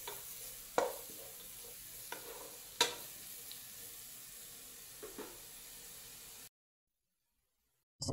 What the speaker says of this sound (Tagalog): kikisa naman natin yung sibuyas para sa ating rice